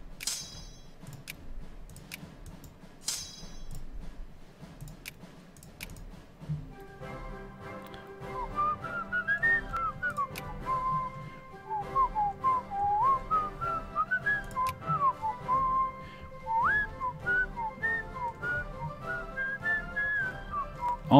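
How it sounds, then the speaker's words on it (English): A man whistles a wandering, melodic tune, steady and close, with the whistling beginning several seconds in after a stretch of faint clicks and quiet background. "my whistling is just totally on key today"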